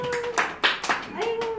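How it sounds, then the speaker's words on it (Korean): A few quick hand claps burst out at a Korean birthday party with rice cake and cake on the table, short and close, mixed with voices. "박수!"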